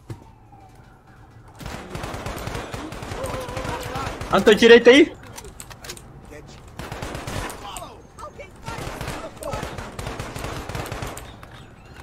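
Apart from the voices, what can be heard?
gunfire in a video game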